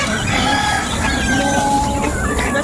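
Chickens, a mix of hens and roosters, crow and cluck loudly and close by over a steady background hubbub, several overlapping calls throughout, with no talk.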